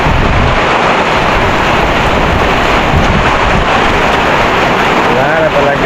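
Steady, dense roar of heavy rain pouring down without a break, loud and close throughout.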